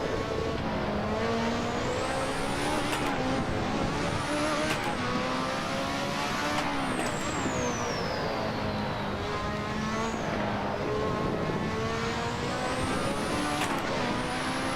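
A Lotus 98T turbo Formula 1 car driven in Assetto Corsa, its engine a continuous loud high-revving whine rising and falling through gear changes, with turbo whistle and brief tyre noise over a constant roar.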